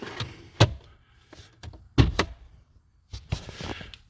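An upper glove box being pushed into place in a 2023 RAM Warlock: several hollow plastic knocks and thunks with soft rubbing between them, close and moderately loud, no talking.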